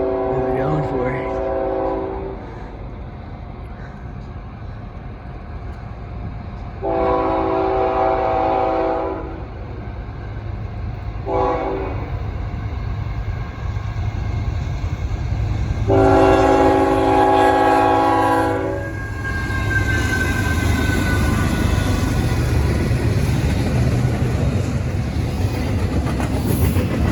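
CSX Q568 freight train passing, sounding a series of long and short horn blasts over a continuous rumble of wheels and cars, with people talking nearby.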